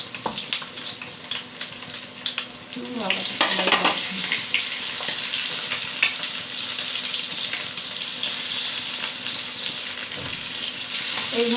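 Egg and potato pakoras fry in hot oil in a home Bengali kitchen, a steady loud sizzle throughout with occasional stirring scrapes and brief clinks, no voices.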